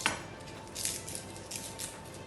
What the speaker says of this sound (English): with the back of a knife, we are going to crush them a little bit